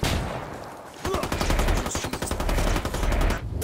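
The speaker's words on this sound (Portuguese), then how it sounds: "Estão atirando!" Rapid automatic gunfire rattles in a first-person shooter game, a dense burst of sharp shots lasting a couple of seconds after a quieter start, loud and close with no voices over it.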